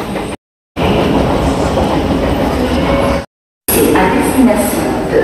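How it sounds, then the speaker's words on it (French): An old train rolls loudly into a station platform with a dense, continuous rumble and clatter of wheels, broken by two brief gaps of silence; a few faint squeals ride on top near the end. "c'est le vieux train. Je n'aime pas le train-ci"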